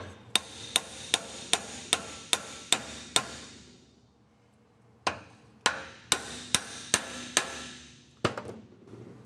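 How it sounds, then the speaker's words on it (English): A hammer taps a U-joint yoke held on a vise to drive in the cap on a 1999 Toyota 4Runner, giving two sets of sharp metallic strikes, about seven then six, evenly spaced, close and ringing, with no talk. "I'm going to tap the yoke to drive that U-joint cap in."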